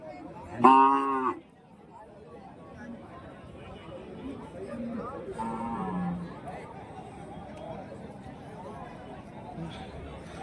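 Cattle at a large Friday cow market in Kundarapalli, Krishnagiri, with one loud, close moo at the start and a fainter moo later, under steady crowd chatter and nearby talk.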